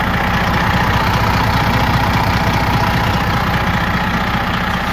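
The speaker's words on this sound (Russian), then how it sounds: "Двигатель сейчас покажу, как работает" A truck's Detroit 12 diesel engine, newly swapped in, idles loudly and steadily up close, its low rumble churning evenly with a faint knocking rhythm and no talk.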